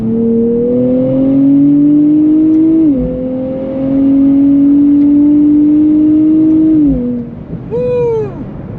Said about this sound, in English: I think that these fast-revving V6s are just incredible.